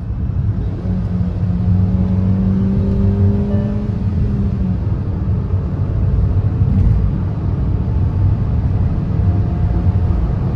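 Hyundai Exter driven at its top speed of around 120 km/h, with a loud, continuous engine and road drone heard from inside the cabin, a rising whine near the start, no talking.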